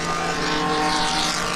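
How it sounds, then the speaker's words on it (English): A loud, blue 1965 Ford Mustang race car roars past at a road-racing festival, a dense, steady engine blare sustained throughout. "And also very noisy blue Mustang."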